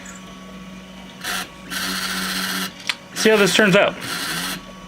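A 3D printer printing parts vertically gives off short bursts of motor whirring and buzzing with brief pauses between, while a person speaks briefly partway through.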